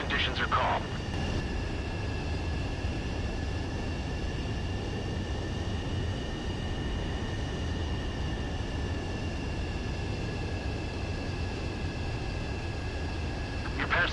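A jet touching down and rolling along the runway in Ace Combat 7: Sky Unknown, heard as a sustained engine drone with steady whining tones held at an even, moderate level throughout.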